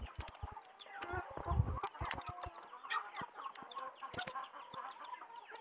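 Chickens clucking on a farm, a busy mix of soft clucks and chatter from several birds with sharp pecking or tapping clicks nearby, fairly faint and without speech.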